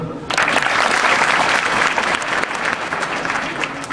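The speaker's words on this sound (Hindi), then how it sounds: "हाथ तालियां दे दो" A room full of people claps together, a dense burst of applause lasting a few seconds.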